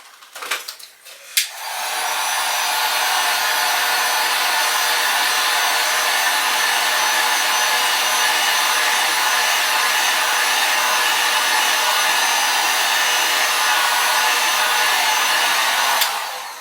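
After a couple of clicks and brief handling, a heat gun switches on and roars steadily for about fifteen seconds, heat-setting fresh paint on a restored fishing lure, loud and close, then cuts off.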